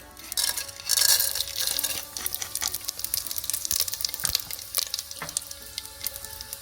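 Whole spices and masala sizzling in hot ghee and oil: bay leaves, cinnamon sticks and cardamom crackling in a steady, close fry with a louder burst of spitting early on, no voices.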